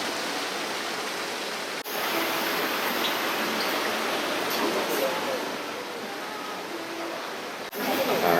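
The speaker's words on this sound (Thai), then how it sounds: "มีสระว่ายน้ำที่จำลองน้ำตกมันด้วย" Water pours steadily from an artificial waterfall into a hotel swimming pool by the beach, a broad, even rushing splash that stays loud and constant throughout.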